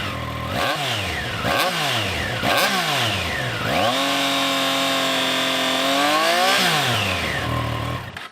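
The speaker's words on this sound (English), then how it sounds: "that triple soundtrack at the exhaust is a pleasant change from the norm" A Triumph inline-triple middleweight naked motorcycle revs hard and close, with three quick blips of its exhaust followed by a long, sustained high-rev pull and a drop back down, alone without talk.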